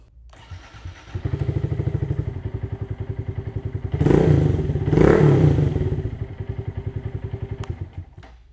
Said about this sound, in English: So here's what it sounds like with the Ice Stunt exhaust I bought off of